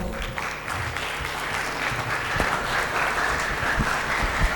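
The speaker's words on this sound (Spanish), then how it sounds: "Un fuerte aplauso, por favor." A conference audience claps to welcome a speaker, a steady wash of applause from a crowd, even and moderately loud for the few seconds heard.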